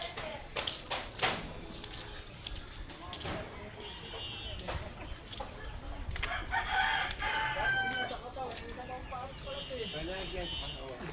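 A labuyo wild junglefowl crows among other fowl sounds in a rural setting, with someone talking over much of it and a drawn-out crow rising in the middle section.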